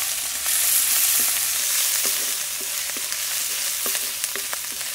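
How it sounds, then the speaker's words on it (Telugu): Sliced onions frying in a pan with pounded green chilli paste, a loud continuous sizzle broken by scattered scraping clicks from stirring. "ఉల్లిపాయలు ఈ విధంగా వేగాక మనం దంపి పెట్టుకున్న పచ్చికారం వేసుకుని బాగా కలుపుకుందాం. ఇది ఒక 2 నిమిషాల పాటు వేయించుకోవాలండి."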